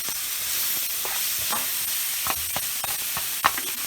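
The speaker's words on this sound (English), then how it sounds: "Butter's browning up nice." Butter browning in a hot pan for tomato mac and cheese: a steady, close sizzle and hiss with a few small pops and crackles, alone and fairly loud.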